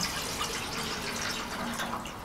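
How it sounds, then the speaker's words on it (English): About 500 millilitres of water pours steadily into the kettle of a fuel-tablet camping stove, a continuous close gushing splash with no talk. "I've got 500 milliliters of water which I pour into the kettle"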